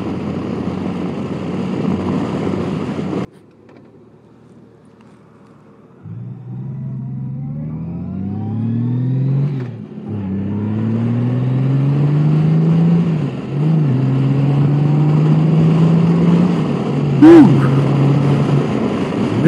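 A 2018 Honda Gold Wing motorcycle engine revving, a low rumble that drops away, then rises in repeated climbing revs through gears, loud and close with wind noise.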